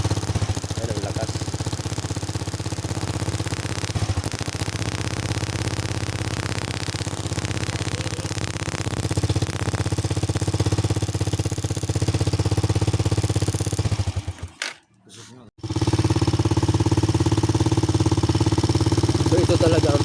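A grounded motorcycle with an electrical fault idles for about twenty seconds, a steady mid-pitched engine hum under someone talking, with a brief drop and near silence around fifteen seconds before it picks up again.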